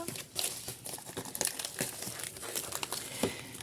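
A small bubble-padded paper envelope is opened close up, with quiet crinkling and crackling, a few sharper paper rips and rustles in irregular bursts, and no speech.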